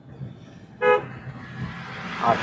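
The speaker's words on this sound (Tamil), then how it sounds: "இன்னொரு முறை ஹாரன்" A car horn gives one short, loud toot at a roundabout, close over a steady rumble of road and engine noise, with a fainter second honk near the end.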